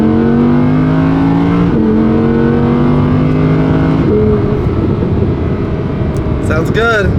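An Audi R8 engine in factory stock form, driven in manual mode, revving with rising and falling pitch through gear changes, heard from inside the car under a steady road drone.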